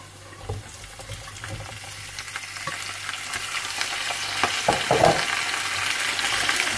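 Whole red chilies and potato slices fry in hot oil for aloo ki katli, a steady close sizzle with scraping stir strokes and clatter that grows louder toward the end, with no talk.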